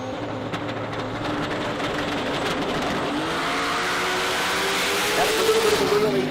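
Australian sports compact drag car at the Adelaide Jamboree running hard down the strip, a sustained loud engine roar with a rising pitch sweep and crowd ambience, under an announcer's commentary.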